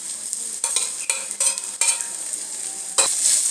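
Chopped onions and tomatoes frying in a pan with curry leaves, a steady sizzle broken by repeated scraping stirs of a spoon against the pan, close and without talk.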